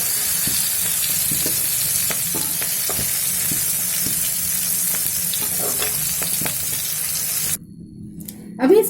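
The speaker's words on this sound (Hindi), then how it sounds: "ये सारे वेजिटेबल्स फ्राई हो गया है" Mixed vegetables deep-frying in hot oil for a fish navaratna dish give a steady, loud sizzling hiss with occasional pops and spoon clinks, broad and continuous until it drops away near the end as something is lifted out.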